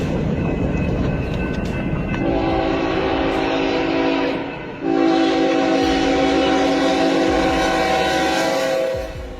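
A train nears a level crossing in Mosier, sounding long, loud, sustained horn blasts with a brief gap between them over a steady rumble of wheels and engine, with no talk.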